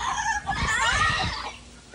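A rooster crows with a raspy, drawn-out call, fairly close, among low scuffling and background noise at a quail farm.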